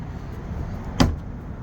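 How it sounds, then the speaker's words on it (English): A single solid thunk as the door of a 2024 Ineos Grenadier Trialmaster is shut, a short, close impact standing out over a low background rumble inside the vehicle, with no talking. "Man, I love that door sound."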